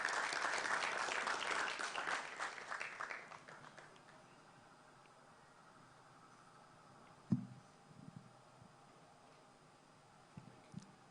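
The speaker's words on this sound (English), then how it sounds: "Let us welcome him with a round of applause." Applause from an audience at a university moot court competition final, welcoming the Vice Chancellor: dense, loud clapping for about four seconds that fades out, followed by quiet room noise with a couple of thumps.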